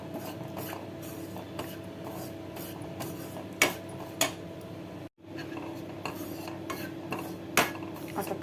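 A spoon scrapes and clinks steadily against a pan as moong dal is dry-roasted and stirred, with a few sharper knocks against the metal. A soft sizzle lies under it.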